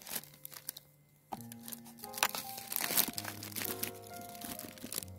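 A taped papercraft kit box being opened with one hand: quiet crinkling and tearing of tape and cardboard in irregular bursts, close and soft, with no voices.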